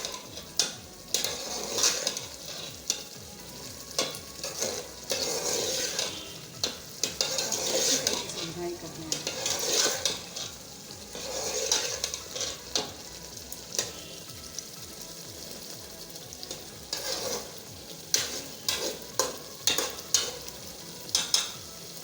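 Two spoons of ghee sizzle and fry in a pan with mutton kaleji, a steady close crackle broken by repeated scrapes and clinks of a spoon stirring against the metal.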